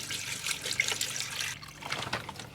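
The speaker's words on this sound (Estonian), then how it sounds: "Panin pool kilo jääd ja siis ülejäänud paneme vee." Water being poured into a mixer with about a kilo of ice for pizza dough, a continuous trickling and splashing that shifts partway through.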